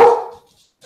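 A single loud dog bark up close, fading over about half a second, followed by silence and the start of a second sound at the end.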